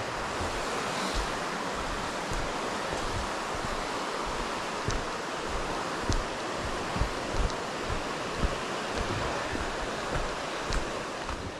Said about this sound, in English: on the left side we've got a second brook now